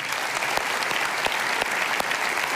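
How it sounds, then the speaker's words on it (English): An audience at a State of the City address claps in sustained, dense applause, steady and moderately loud throughout with a few sharper individual claps standing out. "Let's give him a round of applause."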